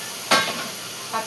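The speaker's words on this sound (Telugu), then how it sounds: "పచ్చడి తాలింపు వేసుకోండి" Tempering for chutney hitting hot oil, two short bursts of sizzling crackle over a continuous low hiss, close and loud.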